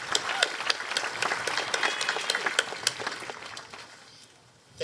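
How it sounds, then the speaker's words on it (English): A high school graduation audience applauds the senior class officers, a dense patter of many hands clapping at moderate distance that holds steady for several seconds and then fades out. "can we have some applause for these students who stepped forward to serve their class"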